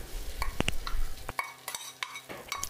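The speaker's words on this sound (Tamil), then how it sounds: "இப்போ அதே கடாயிலேயே இன்னும் கொஞ்சம் எண்ணெய் விட்டு தக்காளியை நம்ம வதக்கிக்கணும்" Tomatoes sautéed in oil in a kadai, with a spatula scraping and clacking against the metal in quick, close strokes over a low oily hiss.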